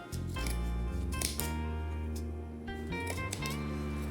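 Scissors snip through excess upholstery fabric trimmed from an IKEA stool top, a few close, crisp cuts against a quiet room.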